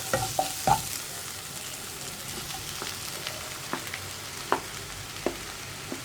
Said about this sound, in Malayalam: ഫ്ലെയിം ഒന്ന് കുറച്ച് വെച്ചിട്ട് നന്നായിട്ടൊന്ന് ഇളക്കി മിക്സ് ചെയ്തെടുക്കുക